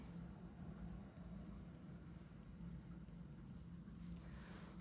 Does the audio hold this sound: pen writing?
yes